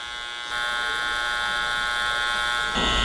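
Electric hair clippers buzz steadily and close while shaping the temples during a haircut, a constant whine that steps louder partway through and again near the end, no talking.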